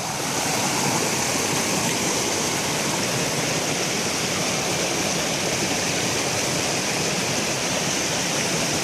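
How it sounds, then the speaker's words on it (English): A small waterfall in American Fork Canyon splashes steadily, a constant bright rush of falling water close by with no other sounds. "Nice little waterfall."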